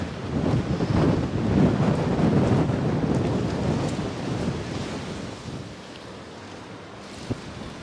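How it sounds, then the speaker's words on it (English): Strong wind gusts outdoors in Penzance, Cornwall, on a winter evening, a rough, fluctuating roar buffeting close to the microphone that slowly eases toward the end. "Oh, that wind has picked up."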